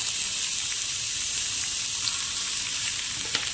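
Mixed pulao rice being poured into a hot pan gives a loud, continuous hiss and sizzle, steady and close, with faint stirring scrapes near the end.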